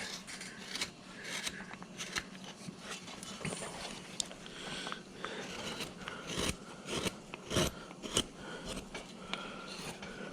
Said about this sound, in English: And I'm making that chisel side run right up flat against that.